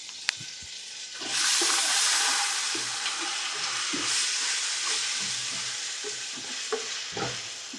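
Food frying in a pan with spice paste, a loud steady sizzle that starts abruptly after a soft clink, while a spoon scrapes and stirs in irregular strokes, close and continuous.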